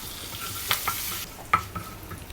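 Stirring in a pan of hot oil with cumin and asafoetida for a savoury kozhukattai: soft steady frying hiss with a few sharp spoon clinks and scrapes, no talking.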